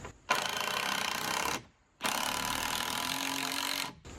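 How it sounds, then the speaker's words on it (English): A power driver sinks an exterior Torx screw into the lumber of a shed wall frame in two sustained whirring bursts, close and loud, with a short pause between them and no talking. "Once I have it where I want it, I'm just going to screw this into place."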